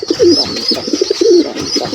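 Soft, throaty coos of Musaldom pigeons repeat in short rolling phrases throughout, close by, with faint background hiss and no talking.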